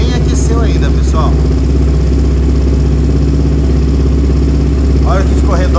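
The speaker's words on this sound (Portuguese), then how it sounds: "Bateu no botão, a moto já liga, já cai na lenta." Honda CB300 motorcycle engine fitted with FuelTech injection, running at a steady, loud idle after starting, with a constant low throb throughout and brief faint squeaks over it.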